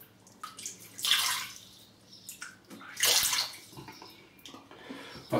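Warm water from a tap runs into a bathroom sink in close, splashy bursts that swell and ease off, with a brief quieter gap between the two heavier gushes.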